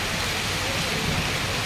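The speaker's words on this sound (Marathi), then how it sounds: "खूप जोराचा पाऊस चालू झालेला आहे" Heavy rain pouring down outside a roadside hotel, a dense, even wash of hiss that fills the whole short stretch, loud and close with no breaks.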